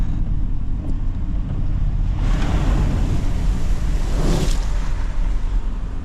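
A Chevrolet Suburban ploughs through farm flood water with a window open, its engine rumble under a continuous wash of water, with two loud splashing surges sweeping past, the second heavier.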